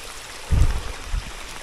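A small mountain waterfall after rain on a night hike, steady broadband rushing and splashing water with a soft low thump partway through, close and continuous.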